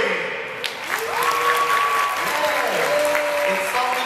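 Audience applause at a dolphin show in Dubai, a steady wash of clapping throughout with whistle-like tonal sounds and a voice over the top.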